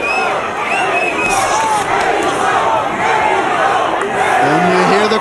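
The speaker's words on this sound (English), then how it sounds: "The Mexico chants are coming out for Padilla." A boxing crowd at a Golden Boy fight night chanting for Mexican fighter Luis Padilla against John Ramirez, a loud rhythmic arena chant swelling over a roaring crowd, with commentators talking over it.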